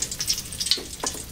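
Ingredients for sambal sizzle and crackle in hot oil in a home kitchen, a steady close frying hiss with a few brief stirring knocks.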